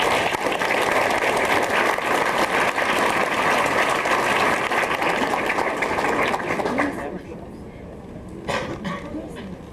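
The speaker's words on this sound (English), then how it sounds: "let's give a round of applause" Sustained applause from an audience at a high school graduation ceremony, loud and steady before thinning and fading near the end.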